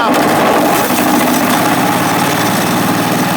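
Engine of a homemade sawmill running steadily and loudly throughout, a continuous droning rumble with no pauses.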